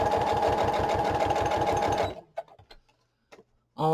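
A sewing machine runs a long, wide straight stitch in pink thread, a fast even mechanical chatter for two seconds, then stops, leaving faint clicks before a voice starts.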